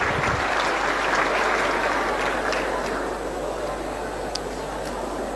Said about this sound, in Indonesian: Berikan tepuk tangan, berikan plus untuk semua.